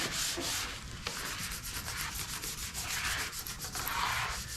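White abrasive scrubbies rub finish into a wooden cabin countertop, a continuous close scratchy scrubbing with slight surges in pressure, fairly quiet and without speech.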